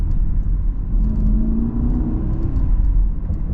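A 2023 Mercedes GLS Maybach accelerating hard, heard from inside the cabin as a deep, steady engine rumble and whir that holds loud and even across the short stretch.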